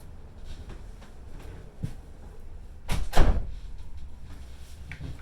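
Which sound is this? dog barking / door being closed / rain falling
door being closed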